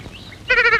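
A goat bleats once, a short, close, wavering cry at the end of a brief stretch of quiet room noise.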